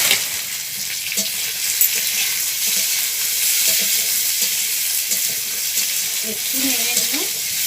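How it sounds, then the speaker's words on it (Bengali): Onion and potato fry in a hot pan with a loud, constant sizzle close by, broken by occasional knocks and scrapes of stirring. "পেঁয়াজটা একটু আধ ভাজা করে আলুটা আমি দিয়ে দেব।"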